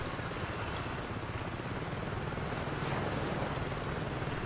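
Helicopter hovering overhead in the video game Saints Row 2, a steady loud rotor and engine drone that fills the whole stretch without letup.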